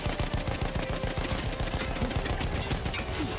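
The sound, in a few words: machine gun firing continuously in video game Battlefield 1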